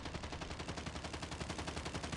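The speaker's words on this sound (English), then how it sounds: "I hear like gunshots." Rapid gunfire in Call of Duty Mobile, a steady automatic burst of evenly spaced shots rattling on for two seconds, fairly loud and alone.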